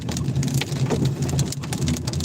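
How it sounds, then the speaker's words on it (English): Heavy rain with large drops pounds down during an active tornado warning south of Oklahoma City, a dense, steady roar of close drumming impacts with no voices. "That's some pretty heavy rain."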